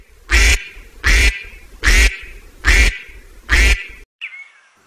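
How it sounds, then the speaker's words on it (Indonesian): A duck quacks loudly five times in a steady rhythm, each quack close and clear, followed by a brief faint chirp. "Bebek, duck"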